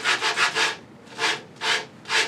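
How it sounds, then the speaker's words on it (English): A hand sander rubs across a piece of wood to flatten its sides, giving rhythmic rasping strokes: a quick run of four, then three slower separate passes, close and steady. "I'm using this handy hand sander to be able to give it a nice flat surface on each side while I'm sanding"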